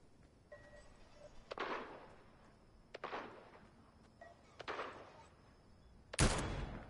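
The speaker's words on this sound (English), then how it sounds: "Someone shooting at us now? Oh yeah, behind us." Gunfire in the video game Fortnite comes as a handful of separate sharp reports spaced about a second and a half apart, each decaying briefly, quite faint overall, with a louder final blast.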